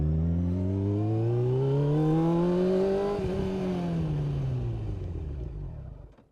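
A motorcycle engine held in first gear during braking practice, droning steadily close by, its pitch rising then sinking as it slows; the note then sags and dies away as the engine stalls.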